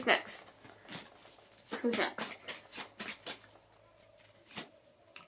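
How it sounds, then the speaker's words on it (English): Tarot cards being shuffled by hand in quiet, repeated bursts of soft riffling and slapping, fairly close, with no voice over the shuffling. "Let me shuffle a little bit more for Pisces."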